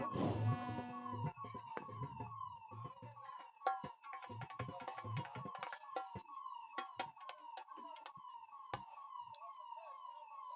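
An ambulance siren wails through a crowded roadside gathering, with a repeating rising-and-falling tone that stays loud and close over steady background noise for the whole stretch.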